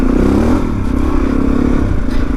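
A motorcycle rides a slippery green lane on the Pilgrims Way in Kent after Storm Bert, its engine droning loud and close with some clatter from the bike moving around.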